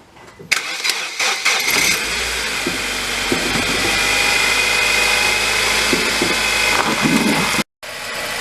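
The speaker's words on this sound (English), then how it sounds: "So now I'm going to go ahead, fire up the car and see what happens." A 2006-2012 Nissan Versa with a seized AC compressor clutch and slow starter cranks and catches, settling into a steady loud idle with a whining drone, then cuts out briefly near the end before resuming.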